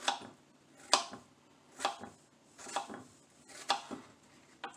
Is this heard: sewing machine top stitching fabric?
no